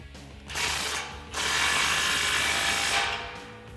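Ratchet wrench with a 15mm socket tightening the exhaust clamps behind the muffler on a 2018-2020 Mustang GT cat-back system; two bursts of rapid, close clicking, a short one then a longer steady run, with no talk.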